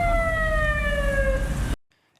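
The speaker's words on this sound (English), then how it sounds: "Like this guy, he just wants to get through, so he turns on his siren." A wailing emergency vehicle siren sounds close and loud in Cairo traffic, sliding downward in pitch before cutting off abruptly into silence.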